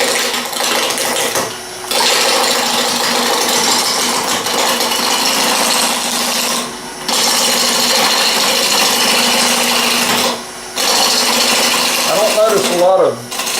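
Wood lathe spinning a Bradford pear root mounted in chuck jaws, a loud steady whirring roar with short gaps where it pauses, and a brief voice near the end.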